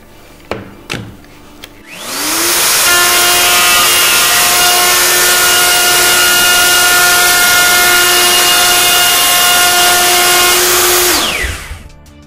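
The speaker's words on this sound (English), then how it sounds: "Now we're going to router the male side of the joint." A router fitted with a tungsten carbide bit cuts the male side of a solid surface worktop joint. A few sharp knocks come first, then a loud, steady, high-pitched whining cut runs for about nine seconds before spinning down.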